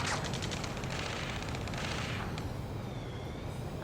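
Heavy gunfire in the combat game Ace Combat 7, a dense, loud, continuous barrage of overlapping shots and rumbling battle noise with no pause.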